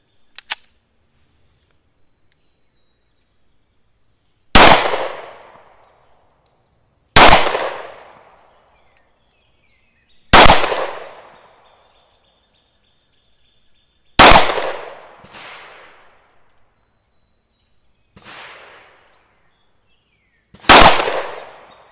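A Browning Hi Power Mark III pistol fires sharp, loud shots outdoors at spaced intervals of a few seconds, each with a short echoing decay. A metallic clink sounds near the start.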